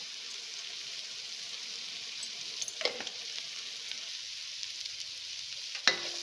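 Mixed vegetables sautéing in a pan for paneer biryani, a soft even sizzle with two brief spatula scrapes, one near the middle and one near the end, and no voices.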